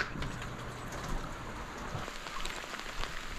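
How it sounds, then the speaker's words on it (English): Pouring rain on a December day by a river with rapids, a dense, continuous patter of drops on surfaces, close and steady, with no voices. "Pouring rain."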